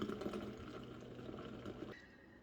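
Cooled coffee concentrate made from instant coffee pours into a canister, a short, quiet liquid trickle and gurgle, close-up, that stops abruptly near the end.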